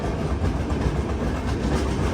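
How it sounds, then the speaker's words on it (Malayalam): The Samata Express pulls out of Parvatipuram railway station, heard from inside a sleeper coach as a loud, steady rumble with a dense clickety-clack of wheels over the rails. "പാർവതീപുരം റെയിൽവേ സ്റ്റേഷനിൽ ഇതാ വണ്ടി എടുത്തിരിക്കുകയാണ്"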